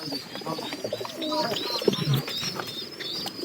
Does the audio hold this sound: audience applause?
no